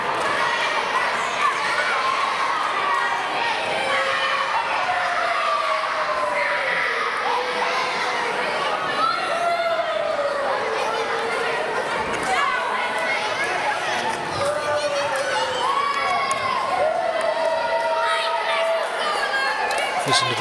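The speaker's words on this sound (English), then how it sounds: "Listen to the boos there from the crowd as they hold up the t-shirt." A crowd at a wrestling event in Jackson, Kentucky, booing and shouting in a loud, continuous roar, with overlapping jeers and voices throughout.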